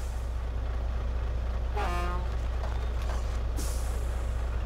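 Truck air brakes in the Spintires driving game give a sharp hiss and release over a constant low engine drone, with a couple of softer puffs and a final burst of air.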